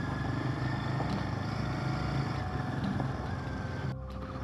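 A Royal Enfield motorcycle rides a landslide-damaged mountain road, its engine a steady, loud thumping drone close to the rider, with wind rushing throughout and the tone easing slightly near the end.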